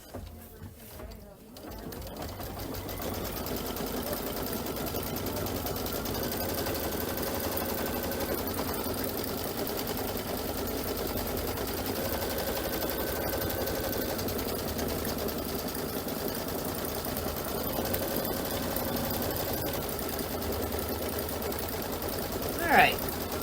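A Kimberbell embroidery machine runs a tack-down stitch on a spring pillow project, a steady mechanical whirring hum lasting over twenty seconds at close range, with a voice speaking occasionally over it.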